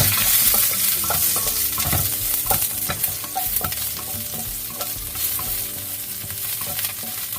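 Garlic sizzles in a hot pan for a stir-fried eggplant dish, a steady loud frying hiss broken by frequent scrapes and clicks of a utensil stirring, with no one talking.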